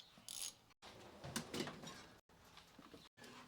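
A bolt at the bottom of a WP air fork being snugged up during a Race Tech conversion, heard as quiet mechanical ratcheting and metal clicks in short bursts separated by brief silent gaps.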